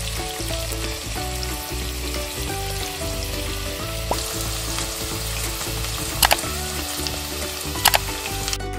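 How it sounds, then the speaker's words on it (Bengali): Cut potatoes fry in oil, the same oil used for pointed gourd, giving a loud, steady, dense sizzle throughout, with a few faint clinks of a spatula near the end. "একই তেলের মধ্যে কেটে রাখা আলুগুলো ভাজতে দিয়ে দেব"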